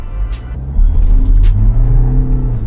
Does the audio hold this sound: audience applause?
no